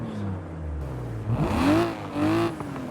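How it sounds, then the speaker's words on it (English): A BMW E36 M3 with a naturally aspirated engine revs up loudly and close by, its pitch sweeping upward in two rising pulls with a brief dip between them. "the E36 definitely sounds more aggressive because it's naturally aspirated"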